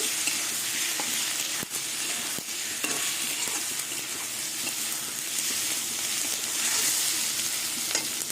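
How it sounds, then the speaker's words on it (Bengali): Onion paste with turmeric and chili powder frying in oil for a puti fish curry, a loud, steady, close sizzle with continuous stirring scrapes throughout and no voices. "এবার সব কিছু দিয়ে আবার একটু ভাজা ভাজা করে নেব"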